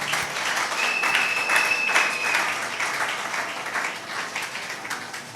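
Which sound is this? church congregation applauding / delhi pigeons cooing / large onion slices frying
church congregation applauding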